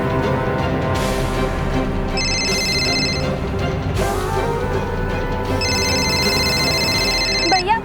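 A telephone rings in a tense domestic drama scene, with two bursts of electronic ringing over background music and voices, the second ring cut off near the end.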